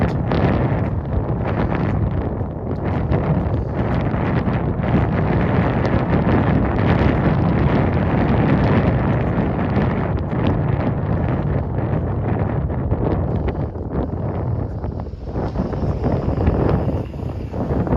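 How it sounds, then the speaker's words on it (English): Heavy wind buffeting the microphone, a loud continuous rumbling roar with gusty bursts throughout and no voices. "Sorry about the wind, guys. It is very windy up here today."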